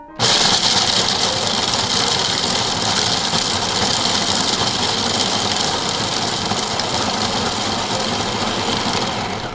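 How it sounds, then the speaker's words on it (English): Walnuts, almonds and pumpkin seeds being ground in a kitchen appliance, a loud, steady motor whir with a gritty rattle that runs continuously for nearly ten seconds without talk. "we have walnuts, almonds, and pumpkin seeds, and let's give that a grind"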